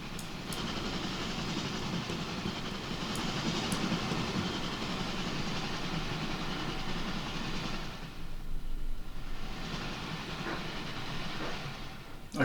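Busy trains run in the Transport Fever 2 railway simulation, a steady rolling rumble with faint clickety-clack and occasional clicks, continuous throughout with no talking.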